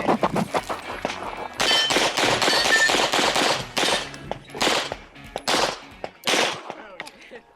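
Rapid pistol gunshots from a Masterpiece Arms DS9 competition gun, a dense string of sharp, loud cracks in quick bursts with short pauses, ringing clangs between shots.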